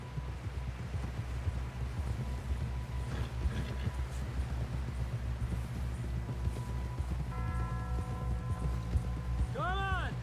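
Horse hooves in the video game Red Dead Redemption 2 beat out a steady, rhythmic clip-clop at a fast pace across the whole stretch under game background sound, with a brief tonal effect near the end.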